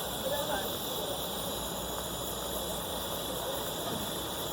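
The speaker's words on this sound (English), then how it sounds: "It's boiling too much." Rice boils hard in a small canteen cup over a campfire, giving a steady, dense bubbling hiss that holds evenly loud and close throughout, with no pauses.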